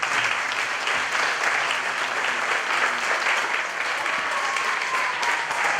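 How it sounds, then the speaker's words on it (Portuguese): A church congregation applauds Jesus during a worship service, dense sustained clapping from many hands that fills the room at a steady loud level throughout. "vamos aplaudir a Jesus?"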